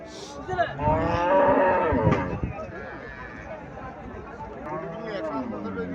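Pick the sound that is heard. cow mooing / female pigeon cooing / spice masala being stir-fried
cow mooing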